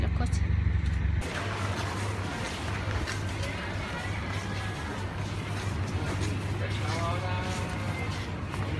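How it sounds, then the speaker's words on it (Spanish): Cars passing along a busy town street on the way to a market, a steady broad roar of traffic throughout with a louder burst at the start, and people talking in the background. "Pues estamos esperando a que pasen los coches."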